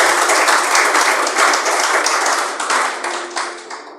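A church congregation applauds loudly, dense clapping from many hands filling the room steadily and tapering off slightly toward the end.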